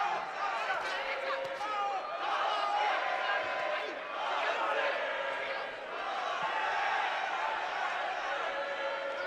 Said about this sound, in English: Sounds like they're chanting Jose